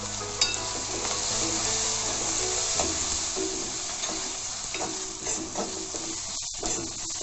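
Mutton masala frying in a pan for mushroom gravy, a steady close sizzle with stirring scrapes throughout and no voices.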